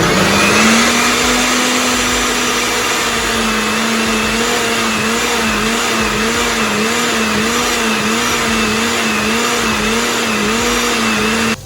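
A kitchen blender whirs continuously as it mixes buttermilk pancake batter with vanilla extract and salt, a loud, close, steady motor hum with a slight wavering pitch throughout.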